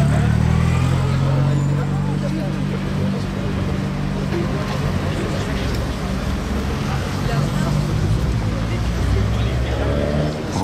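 A Rolls-Royce Phantom coupé drives by on a Paris street, its low engine rumble blending into a steady wash of city traffic for the whole stretch, with people talking nearby over it.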